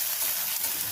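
Onions with a little salt fry in a pan for a broad bean, potato and tomato curry, making a brief, close, even crackling hiss.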